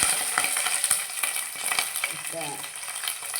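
Tomato frying in a pan while preparing Mangalorean-style chicken sukka, a soft continuous sizzle with light stirring scrapes throughout, close and fairly quiet, no talking.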